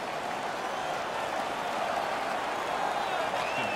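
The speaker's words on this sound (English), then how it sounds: "The crowd is all over them right now." An ice hockey arena crowd in NHL 16 roars in a steady, dense wash of cheering that holds at an even level throughout.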